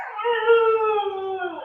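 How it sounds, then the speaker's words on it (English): A dog gives one long, sustained howl close by. It is clear and steady, bends slightly in pitch and trails off at the end, with no talking over it. "Right, that's a dog."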